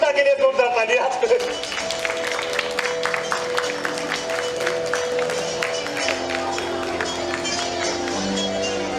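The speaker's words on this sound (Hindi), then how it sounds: "फुल्दा के लिए जोरदार तालियां।" An audience claps steadily throughout a stage program in Uttarakhand, the applause running beneath music and a talking voice.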